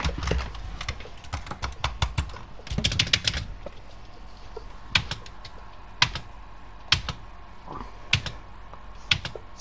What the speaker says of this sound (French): Je teste la touche espace. Parce que d'habitude, elle marche pas.